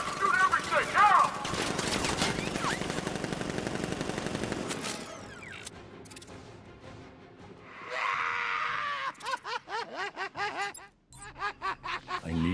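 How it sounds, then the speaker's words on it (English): Militia gunfire in the video game Batman Arkham Knight: dense automatic bursts and rapid shots, loud and close, broken by short pauses, with voices and game effects mixed in. "Open fire! Shoot everything!"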